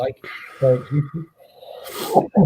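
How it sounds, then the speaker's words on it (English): A single sharp, breathy sneeze bursts out near the end, briefly interrupting a person talking casually. "Sorry, I just had to sneeze in."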